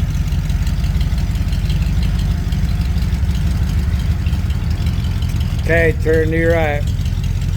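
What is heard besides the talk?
Ford F100 truck engine idling with shortened glass pack mufflers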